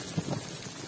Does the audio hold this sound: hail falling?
yes